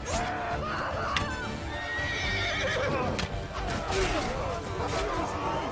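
Horse neighing and whinnying in the video game Mount and Blade Bannerlord, amid hoof clip-clop and the dense clash of a battle; the neighs rise clearly over the loud, continuous fighting noise.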